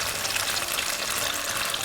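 Tofu pan-frying slowly over low heat in a generous amount of oil gives a steady, close hiss of broadband sizzle that runs evenly throughout with no talk.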